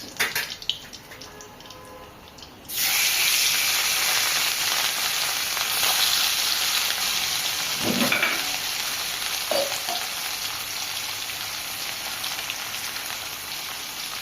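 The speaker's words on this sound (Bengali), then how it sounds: "বাকি মাছগুলো এরকমভাবে লাল করে ভেজে নেব।" Rui fish frying in hot oil in a kadai, a steady loud sizzle that bursts on suddenly after a quiet start and keeps crackling evenly, with a few clinks of a utensil along the way.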